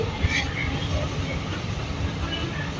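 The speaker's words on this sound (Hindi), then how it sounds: "रुकने लगी है मेट्रो।" A Riyadh metro train rolls and slows toward a station stop, giving a steady low rumble of wheels and carriage noise with faint higher squeaks, close and continuous for the whole stretch.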